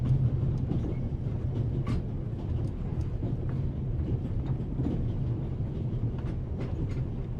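A moving train in the video game The Raven gives a steady, low rumble with faint clicks and clatters, continuous and even throughout, with no voices.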